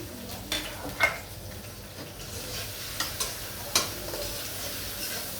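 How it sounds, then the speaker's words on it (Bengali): Sliced onions fry quietly in vegetable oil in a pan for a village-style pabda fish curry with ridge gourd and potato, a soft steady sizzle broken by a few light clicks of stirring. "পেঁয়াজটি ভাজা হোক।"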